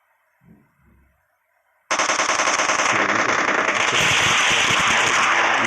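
Rapid, loud gunfire in a battle royale shooter match, starting abruptly after a brief low thump and continuing as a dense, sustained burst of shots to the end.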